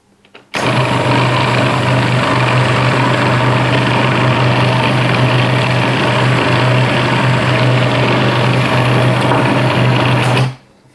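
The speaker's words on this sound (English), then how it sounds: "then we're going to blend and then taste" A blender purees hummus with a loud, steady motor whir. It starts abruptly, holds for about ten seconds up close and then cuts off.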